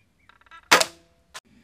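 New World arbalest medieval crossbow shooting a bolt: a soft creak, then one sharp loud snap with a quick decay, followed by a short thud of impact.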